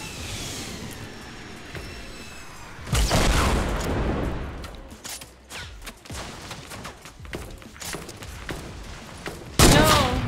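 Fortnite gunfire in a squads battle royale match: bursts of shots and heavy impacts come in clusters, with loud spikes near the start and the end over quieter game noise, and a voice talking at times.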